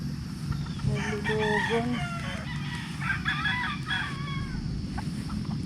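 Gamefowl roosters at a breeder's yard crowing and clucking over a steady noisy background, with a brief voice speaking nearby.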